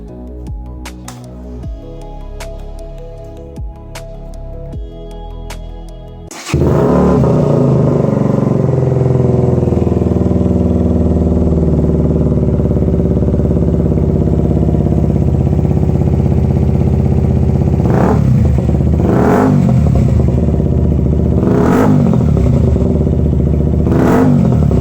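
A KTM Duke 125 motorcycle fitted with a loud replacement exhaust fires up after a few seconds of clatter, then idles loudly and close, with three sharp throttle blips near the end.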